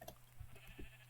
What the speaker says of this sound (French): Oh, il y a plein de moutons!